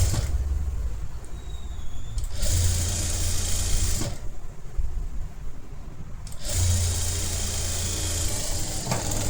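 A sewing machine stitches a half-inch fold on a blouse in three bursts of rapid, whirring motor hum, separated by short pauses, with no talking.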